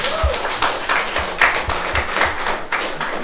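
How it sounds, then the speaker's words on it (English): Applause from an audience at an art exhibition in Oslo, Norway, a steady patter of claps of moderate loudness sustained throughout with a few sharper individual claps. "give them a big applause"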